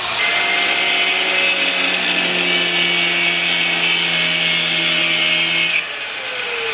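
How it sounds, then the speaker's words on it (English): An angle grinder cuts notches into the steel pinch weld of a Nissan Skyline car body, a loud steady high-pitched whine with harsh cutting noise that holds for about six seconds and then winds down. "the trick is to basically put 2 notches in the pinch weld with like a grinder"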